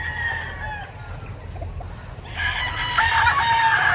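Chickens cluck on a Philippine farm before a rooster crows loudly and close by, its long call ringing out over the low hum of the surroundings.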